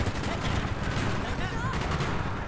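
Sustained gunfire in Call of Duty Black Ops, set in Vietnam, with dense bursts of shots over a constant loud battle din, and a voice talking faintly underneath.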